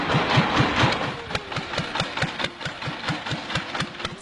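An old Ferguson tractor engine runs on a farm, chugging in a steady, evenly spaced rhythm of loud, close firing pulses.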